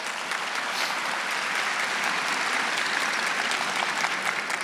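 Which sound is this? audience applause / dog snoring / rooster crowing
audience applause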